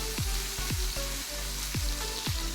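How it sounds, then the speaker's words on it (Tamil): Cumin seeds, lightly crushed ginger and garlic sizzle in hot oil for a paneer naan stuffing. A dense, steady crackle runs under several low knocks and scrapes of stirring, and no one speaks. "ஜீரகம் போட்டதும் இஞ்சி பூண்டு லைட்டாக தட்டி போடுங்க."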